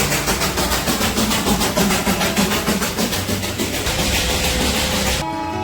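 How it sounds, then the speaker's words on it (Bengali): The Darjeeling toy train runs near Ghum station, a loud continuous rumble with rhythmic clattering of wheels on rail, held close and steady until it cuts off abruptly near the end. "ঘুম স্টেশন পার করতেই কানে এলো টয় ট্রেনের কুঝিকঝিক আওয়াজ"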